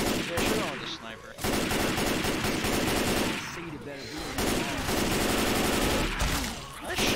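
Gunfire in the Left 4 Dead 2 video game comes as dense, loud bursts of rapid shots that overlap in near-continuous volleys with brief gaps between them.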